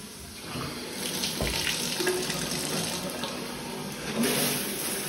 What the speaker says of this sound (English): Test the water pressure.